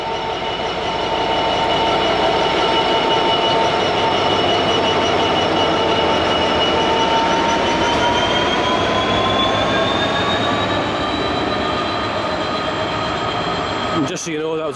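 A train rolls along steadily with a loud, continuous rumble and rising metallic wheel whine. A voice speaks faintly underneath.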